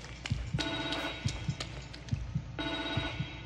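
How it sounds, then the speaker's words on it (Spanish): A telephone rings in the horror video game The Evil Within 2, two bursts of shrill bell ringing over a rhythmic pulsing low thump in the background. "aquí es cuando contesto el teléfono"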